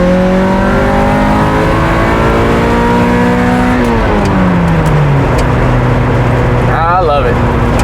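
A Toyota MR2 AW11 with its 4AG engine revs up through the gears, the pitch climbing, dropping at each shift, then climbing again, loud and close, with a brief high whine near the end.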